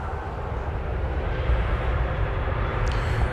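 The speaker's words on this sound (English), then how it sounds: "American 1525 is on the way to its next destination, which is El Paso, Texas, on a 737-800." An American Airlines Boeing 737-800 airliner at DFW Airport gives a steady, distant jet engine roar with a low rumble, continuous throughout with no voices.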